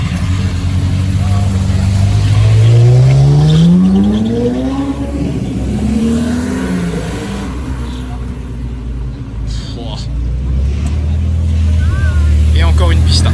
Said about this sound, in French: Bentayga qui arrive au casino.